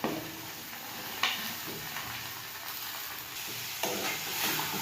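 Chilli chicken with cashews and sweet corn sizzles gently in a pan on a low flame while being stirred, a soft continuous frying hiss broken by a few light scrapes and taps of the spoon, close and quiet.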